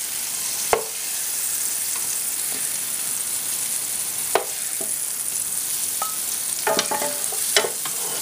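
Mushrooms frying in a pan for chicken Marsala, a loud steady sizzle throughout with a few close clacks and scrapes of a utensil stirring them.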